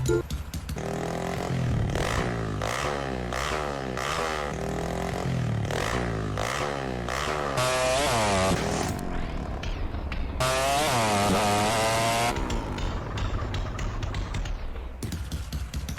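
A revving video game motorcycle engine, a Knight 125 in GTA San Andreas on PC, drones steadily with rising and falling pitch sweeps, like gear shifts, continuous and loud without any talking.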